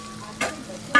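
Tomatoes hit hot oil with homemade black masala, onion-garlic masala and turmeric, giving two short bursts of sizzling close by, separated by a brief quieter pause.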